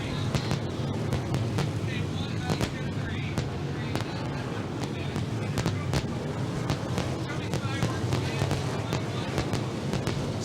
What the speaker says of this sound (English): The fireworks are launched.